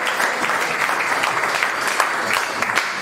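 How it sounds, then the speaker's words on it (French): Audience applause at a student gathering at the University of Mwene-Ditu: a continuous, moderately loud patter of many hands clapping for about three seconds, with occasional sharper claps standing out. "On peut applaudir quand même."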